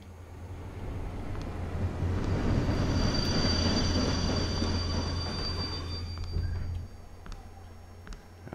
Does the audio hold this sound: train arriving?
yes